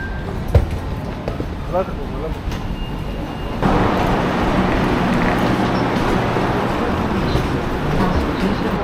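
Rumbling train noise inside an Athens metro station, a low steady roar that swells midway, with faint voices and announcements in the background.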